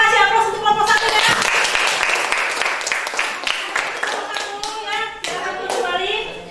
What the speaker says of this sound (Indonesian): Kita kasih aplaus untuk kelompok 1 ya.